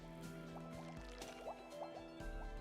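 Water scooped up in Minecraft, a quiet sequence of gurgling, dripping liquid blips with a low hum underneath, no talking.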